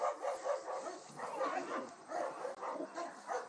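A large, powerful Boerboel, a South African mastiff-type guard dog, barks in a string of deep, rhythmic woofs and yips at moderate distance, repeating steadily through the clip.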